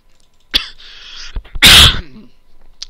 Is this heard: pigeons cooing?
no